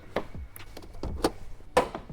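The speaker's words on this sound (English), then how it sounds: "let's go ahead on and get the hood up on this truck" The hood of a 2012 GMC Denali truck is opened, giving a short run of separate clunks and knocks spread over about two seconds, close by and moderately loud.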